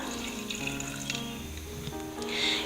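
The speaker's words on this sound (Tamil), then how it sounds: "இது கூட கொஞ்சமாக தண்ணி சேர்த்துக்கலாம்." Water pours in a steady, close trickle into a drink mixture that swells slightly near the end, with no one speaking.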